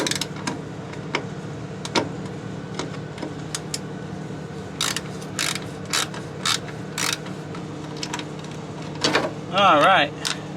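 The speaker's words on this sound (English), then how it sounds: "It's a 1/4-inch drive socket with a I think it's a T28 bit in it." A 1/4-inch drive socket ratchet fitted with a T28 bit works screws loose in a truck shop, giving quick clicking bursts and scattered metallic knocks over a steady background hum, with a short squeaky creak near the end.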